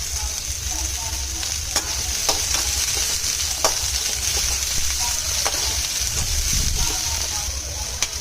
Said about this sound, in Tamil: கொஞ்சமாக எண்ணெயில் 2 பெரிய வெங்காயம், காரத்திற்கு தேவையான பச்சை மிளகாய் சேர்த்து நல்லா வதக்கிக்கோங்க